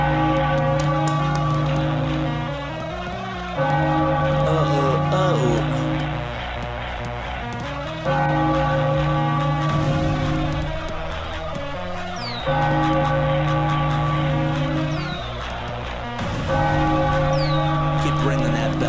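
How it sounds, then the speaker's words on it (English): A bell rings repeatedly at a Phillies–Dodgers baseball game, its sustained tolling tones loud and continuous over dense background music and crowd noise. "Keep ringing that bell"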